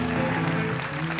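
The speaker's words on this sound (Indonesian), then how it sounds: "Tepuk tangan buat saya." A studio audience at an Indonesian comedy talk show breaks into dense, steady applause that fills the room without pause.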